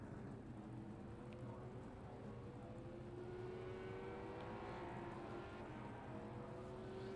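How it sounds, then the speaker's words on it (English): Race cars in the Project CARS 2 racing game drive past in a steady, dense engine drone whose pitch climbs as the cars speed by, with no talking. "listen to the cars driving by"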